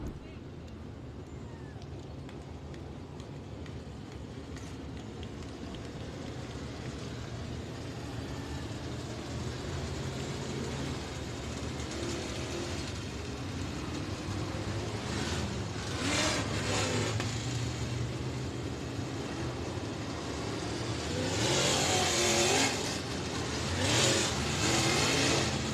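USRA Modified race cars roll onto a dirt speedway track at the start of the A main, their engines droning and building into revving that grows louder toward the end, heard under steady commentary and crowd noise.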